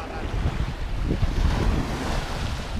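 Sea surf washing against the shore with strong wind buffeting the microphone, a steady loud close roar of breaking waves and gusts filling the whole stretch, no voices.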